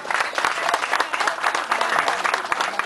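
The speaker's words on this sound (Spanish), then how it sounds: "Fuerte el aplauso." A crowd claps steadily and loudly, a dense burst of applause filling the space.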